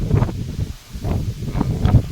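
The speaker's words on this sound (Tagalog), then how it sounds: "Ang lakas ng hangin oh." Strong wind gusting against the microphone, a low rumbling buffet that swells and dips in waves, with faint rustling.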